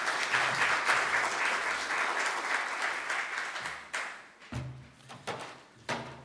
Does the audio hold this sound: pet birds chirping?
no